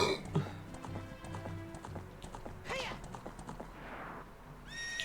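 Epona the horse gallops in the video game Ocarina of Time, with quick game hoof clip-clops, a whinny and scattered electronic effects, faint in the mix under a voice talking.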